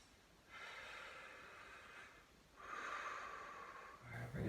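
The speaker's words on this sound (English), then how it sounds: "a couple more deep breaths" Two long, deep breaths drawn during a stretching routine, each a soft, airy rush lasting about two seconds, close and fairly quiet, with a brief louder exhale at the end.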